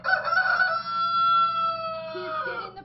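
A rooster in a backyard crows one long, loud, close cock-a-doodle-doo that trails off slowly over a faint, steady low hum.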